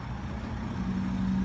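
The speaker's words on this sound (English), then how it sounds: "Here we have the truck approaching, where approximately 300 animals are stacked into this truck." A livestock truck packed with roughly 300 animals approaches, its engine a steady low rumble that holds at a constant loudness throughout.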